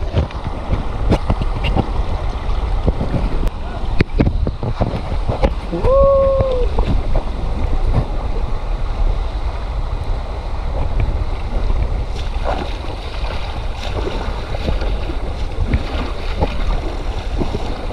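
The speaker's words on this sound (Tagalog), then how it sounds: "Ayan o, lakas ng tubig o." Rushing water near Zamora Falls in Bulacan roars as a steady broadband wash under wind buffeting the microphone, with brief faint voices and one short whoop partway through.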